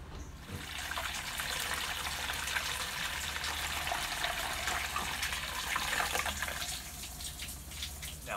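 Water from a flushed toilet draining through a plumbing P-trap: a steady, close rushing trickle that runs continuously and fairly loud, swelling slightly near the end before easing off.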